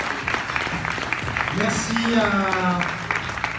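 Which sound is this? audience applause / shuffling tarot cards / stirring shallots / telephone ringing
audience applause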